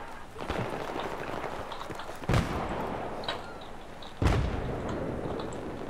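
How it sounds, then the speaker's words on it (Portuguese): Battlefield 3 gunfire: sharp shots and explosive booms land a few seconds apart over a continuous rumbling battle din, with no talking. "Tô tomando tiro, Nito, comigo."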